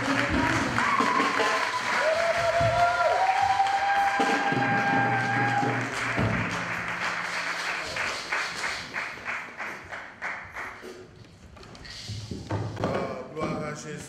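A crowd applauds loudly and steadily, the clapping thinning into scattered claps before swelling again briefly at the end.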